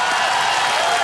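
Studio audience applause on the Hindi TV quiz show Kaun Banega Crorepati season 16, a loud, dense, continuous roar of clapping close up, filling the whole moment without any speech.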